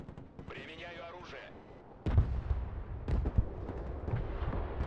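Enemy gunfire in the Broken Arrow real-time tactics game booms in heavy, low thuds, with a strong blast followed by several more shots, while a voice talks early on.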